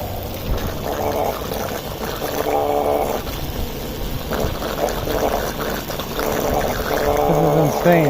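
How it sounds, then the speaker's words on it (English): A small pump draws standing water out of the interior of a 2013 Cadillac SRX, a continuous watery gurgling and trickling hum that runs steadily throughout at moderate loudness. "So I got my trusty pump hooked up again"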